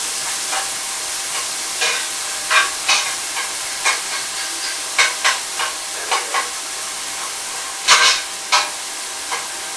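Onions being stirred with a spoon in a hot frying pan, giving a steady sizzle broken by a series of short, close scraping strokes at an uneven rhythm, with no talking.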